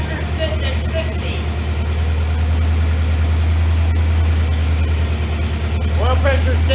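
AMC 401 V8 in a Jeep YJ running at a steady idle, a loud continuous low rumble that holds throughout with a faint voice briefly audible toward the end.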